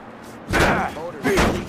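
Two heavy, hollow thuds about a second apart as a baseball bat strikes a car in Mafia Definitive Edition, close and loud, with a short voiced sound between them.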